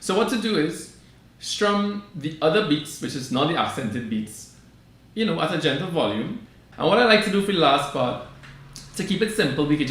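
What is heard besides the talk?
None of the usual background noises is heard.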